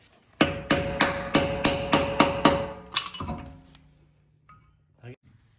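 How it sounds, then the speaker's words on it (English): Eight sharp, evenly spaced metallic hammer strikes on a car wheel stud ring out close by, then slow to a few scattered knocks and a final clank. "we'll just pry it with a hammer to get the other second part up"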